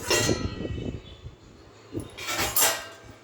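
A metal pot lid clatters and scrapes as it is lifted while making tomato rice, followed by a second brief rattle of metal a moment later.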